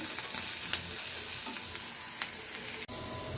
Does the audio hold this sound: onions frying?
yes